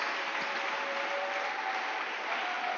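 A church congregation applauds and acclaims the Lord, a continuous even wash of clapping from a large crowd with a faint held tone running through it.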